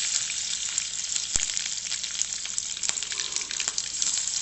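Chopped green chili sputters in hot oil with crackling mustard seeds and asafoetida, a dense steady sizzle with sharp pops throughout, close and alone with no voices.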